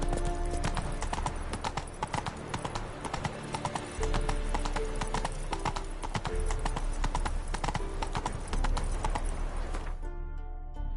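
Roach the horse trots in The Witcher 3: Wild Hunt, a loud, steady clip-clop of hooves close by, mixed with game music and ambience, ending abruptly near the end.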